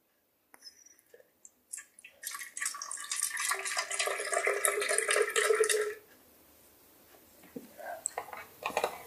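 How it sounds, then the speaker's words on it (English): Milk pours into a glass for a few seconds with a bubbling, rising gurgle, close by, followed by quieter clinks and handling. "Now you pour a milk."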